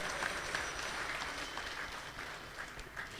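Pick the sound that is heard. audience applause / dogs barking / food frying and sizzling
audience applause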